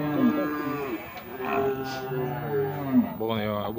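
A large bull at a cattle fair in Tabira, Pernambuco, lets out long, deep, loud moos close by, with crowd murmur in the background.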